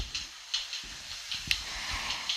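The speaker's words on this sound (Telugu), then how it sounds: "పోపు గింజలు వేసుకున్న తర్వాత ఒక రెమ్మ కరివేపాకు వేసుకోండి" A sprig of curry leaves and tempering seeds sizzle in hot oil in a pan for a baby potato curry, a continuous gentle hiss dotted with frequent small crackles and pops, with no voices.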